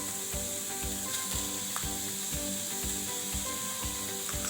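A spoon scrapes and stirs through a thick gulkand modak mixture in a pan over a flame, repeating in a steady rhythm of rubbing strokes with a constant sizzle underneath, close up and with no talking.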